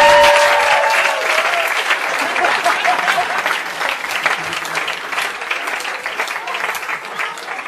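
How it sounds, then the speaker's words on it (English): Loud, sustained audience applause at a school event as people are welcomed onto the stage, thick continuous clapping from a large crowd that slowly thins, with a brief tone near the start. "A round of applause, please."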